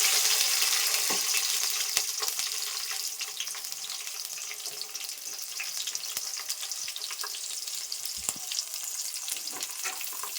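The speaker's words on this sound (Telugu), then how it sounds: "ఆయిల్ అయితే హీట్ ఎక్కేసింది ఇప్పుడు ఆల్రెడీ కట్ చేసుకున్న ఆనియన్స్ అండ్ పచ్చిమిర్చి" Onions and green chillies frying in hot oil in a pan, a steady dense sizzle that keeps going with scattered crackles and pops, loud and close, with no voices.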